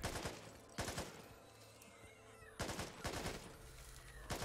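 Two bursts of AK rifle fire in the zombie shooter Back 4 Blood, each a short cluster of sharp shots, separated by a quieter gap with faint game ambience and a low hum underneath.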